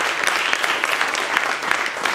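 A crowd at a public community gathering in Nantes gives a warm round of applause, a dense and continuous patter of many hands clapping at a steady, fairly loud level.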